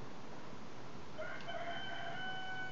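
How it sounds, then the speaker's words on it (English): A rooster at a neighbouring house crows once, a faint, distant cock-a-doodle-doo that comes in partway through and stays quiet throughout. "Sorry if you can hear a rooster."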